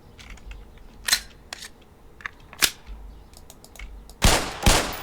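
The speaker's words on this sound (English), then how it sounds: "Put 7 rounds in the center ring of each target." Gunfire at shooting-range targets in the video game Black Mesa during the hazard course: several sharp, loud single shots spaced irregularly, then two heavier blasts close together near the end, with no talking.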